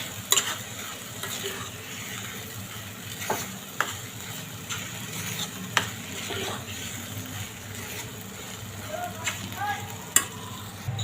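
Vegetable pulao rice with peas being stirred in a hot pan, with soft repeated scraping and stirring knocks over a faint steady sizzle.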